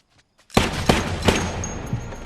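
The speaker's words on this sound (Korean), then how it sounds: "세 발의 총성" Three sharp gunshots ring out in quick succession in a martial arts film scene, each a loud close crack with a short decaying tail, followed by a lingering low rumble.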